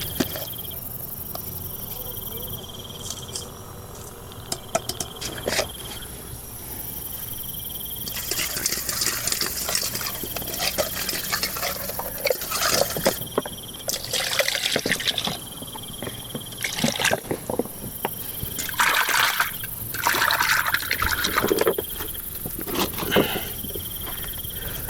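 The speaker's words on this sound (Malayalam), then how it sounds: "കുറച്ച് ഉപ്പ് പൊടി ഇട്ട് കഴുകാം അല്ലേ" Something being washed in water with salt powder outdoors at a night forest campsite, irregular splashing and trickling up close over a constant chorus of crickets.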